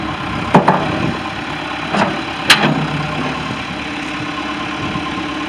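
Steady idle of a 1999 John Deere 410E two-wheel-drive backhoe with enclosed cab, a constant mid-low engine drone close by, broken by a few brief clanks.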